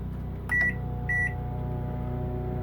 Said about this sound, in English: Microwave works.